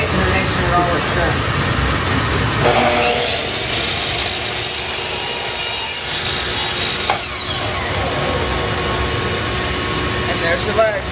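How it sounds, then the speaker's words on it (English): A hand saw rasps back and forth through a piece of wood being cut for a candle holder, a steady close stroking sound with slight pauses, under a steady background noise. "I'm just going to make the cuts with this saw"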